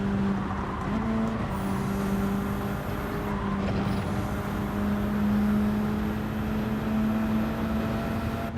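A race car in Gran Turismo 7 drives into the pits during a daily online race, its engine holding a steady droning tone with gear-shift changes in pitch and a faint whine above, loud and close throughout.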